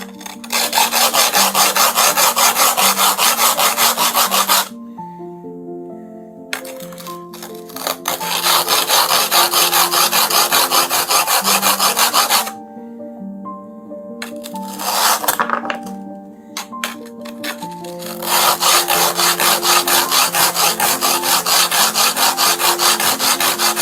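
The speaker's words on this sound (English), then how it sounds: "just going to trim the base of that down, ready for when I get the rest of the pedestal." Hand-sawing or rasping the wooden base of a handmade pedestal, loud repeated scraping strokes in long bursts broken by short pauses, close to the microphone with no talk.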